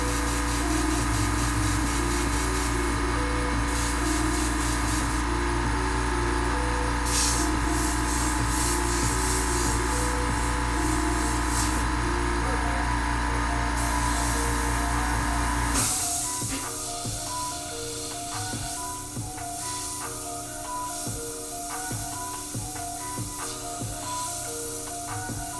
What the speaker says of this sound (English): we're just gonna start with clearing out this airbrush